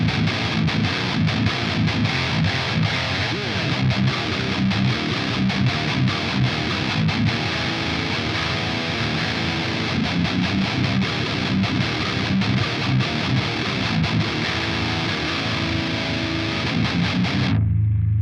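Heavily distorted metal guitar through the KOBRAA amp sim, tuned down to drop A, chugs in a loud, dense riff that runs continuously for about seventeen seconds before cutting off abruptly.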